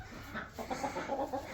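Backyard chickens clucking softly as they are let out of their coop, a few quiet, close, short cackles in quick succession.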